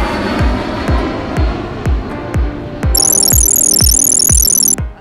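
An airliner just landed at Istanbul Atatürk airport gives a steady loud engine roar with regular low thumps, and a high whine joins in partway through.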